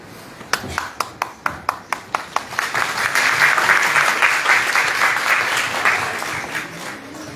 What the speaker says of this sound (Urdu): تالی بجا دو